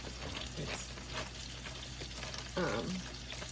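Fresh chopped garlic sizzling and frying in a pan for chicken Marsala, a steady close crackle with brief stirring and a short tonal clink partway through.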